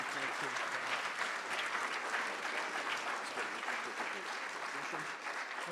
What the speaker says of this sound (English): well deserving of our applause